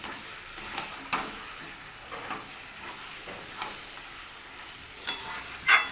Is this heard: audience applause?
no